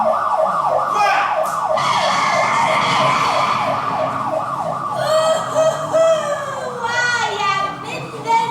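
An ambulance siren wails in a steady repeating up-and-down cycle, loud and close, with children's excited voices and other speech over it.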